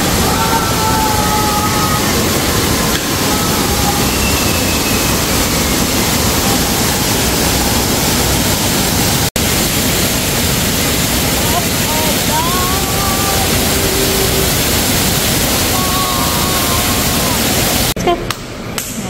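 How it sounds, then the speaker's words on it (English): A big waterfall at a bird park roars as a loud, steady broadband rush that fills the whole stretch, with faint bird calls and scattered voices underneath. "we're going to the last stop. The big falls."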